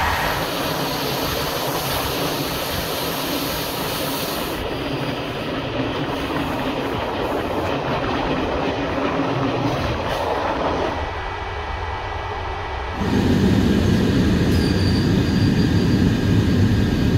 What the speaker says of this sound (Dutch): in Liers overgestapt op deze inmiddels al vrij antieke M4-rijtuigen